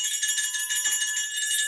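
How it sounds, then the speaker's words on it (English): A steady, sustained bell tone rings alone, bright and continuous with a faint pulsing shimmer, at moderate loudness. "ring the bell, ring the bell."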